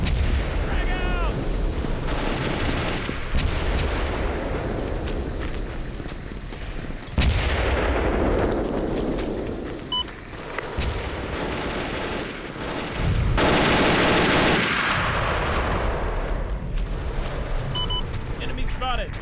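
Rapid gunfire from an old 2000s shooter video game rattles in loud, continuous broadband bursts with heavy booms, while game voices call out over the shooting.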